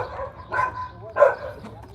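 A puppy gives two short, sharp barks spaced about half a second apart, close by and fairly loud.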